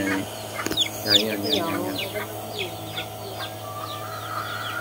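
Chickens and roosters cluck and chatter close by in a rural yard, with repeated short calls over steady background noise and someone speaking intermittently.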